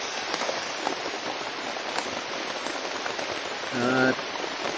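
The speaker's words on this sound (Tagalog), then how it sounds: "At napakalakas ng ulan ngayon mga tol." Heavy rain pours steadily and loudly, a dense continuous hiss of drops striking surfaces, with a brief spoken word near the start.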